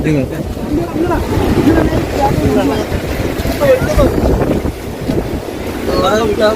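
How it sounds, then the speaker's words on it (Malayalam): Strong wind drives rain on a misty hillside behind Gopalaswamy temple, a steady loud roar of gusts and buffeting over the microphone throughout. "ശക്തമായ കാറ്റുകൊണ്ട് മഴയെ തള്ളി വെക്കുകയാണ്"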